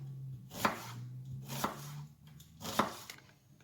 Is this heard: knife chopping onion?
yes